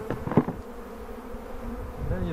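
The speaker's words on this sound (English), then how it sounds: "Open the lid, you see a lot of bees here" Honeybees buzzing in an opened hive during a nuc transfer, a steady droning hum with a louder flurry near the start, close to the listener and with no talk over it.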